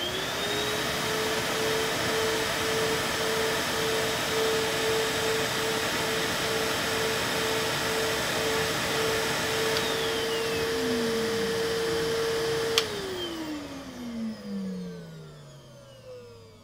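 Two Henry HVR200 and HVR160 compact canister vacuums run together with a steady mid-pitched motor whine and airflow hiss. One winds down near the end, its pitch sliding lower as it fades.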